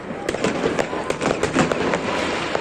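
Rapid crackling pops and bangs of New Year's firecrackers going off continuously on a distant hill in Italy, a dense irregular barrage with a few sharper cracks standing out.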